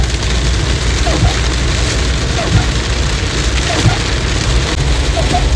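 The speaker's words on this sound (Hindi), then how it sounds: "बारिश बहुत तेज़ आ गया" Heavy rain pours down in a village, a loud, dense and continuous hiss of drops hitting surfaces that fills the whole stretch, with faint scattered knocks beneath it.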